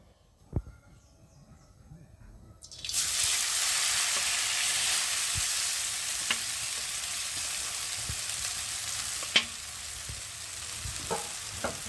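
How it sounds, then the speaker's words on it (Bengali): Chow mein noodles dropped into hot oil, starting after a quiet moment with a few clicks, then a loud, steady sizzle that continues with occasional sharp taps from stirring. "তেলটা গরম হয়ে গেছে, আর এখন আমি চাউমিনগুলো তেলের মধ্যে দিয়ে দেবো।"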